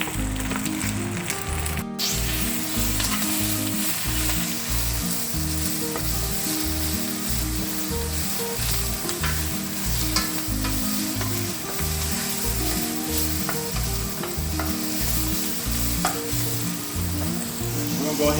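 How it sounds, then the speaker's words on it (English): Spinach sautéing in a pan on an outdoor grill gives a steady, close sizzle that runs unbroken, with a rhythmic scrape and stir repeating throughout. "And we're going to go ahead and just saute these down"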